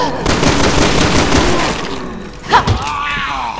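Rapid, loud gunfire from Resident Evil 6 on PC rattles in dense bursts, then thins out with a single heavy impact near the end, amid game effects and a faint voice.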